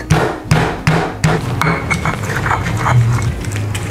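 Chili and shallots are coarsely pounded in a mortar, with a run of sharp, evenly spaced thuds up close followed by softer grinding and scraping.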